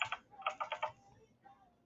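Quick bursts of keyboard typing, several rapid clicks in short clusters, faint and close, with a pause before a final soft tap.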